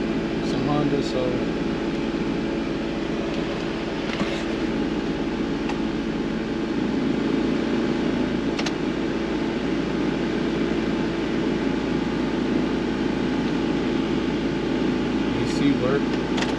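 Inside a Honda at a dealers-only auction, the air conditioning blower runs with a steady, breathy whoosh and low hum that hold for over fifteen seconds beneath a voice.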